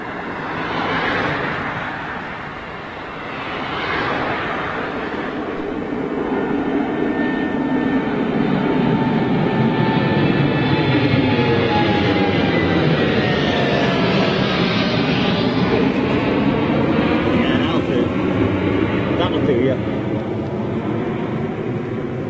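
A jet airliner departs Gatwick Airport, its engine roar building into a loud, sustained whine with shifting tones as it passes overhead, steady and alone without talk.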